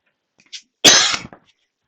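One sharp, explosive cough bursts out close to the microphone after a couple of faint breaths, followed by a short trailing catch, in an otherwise quiet room.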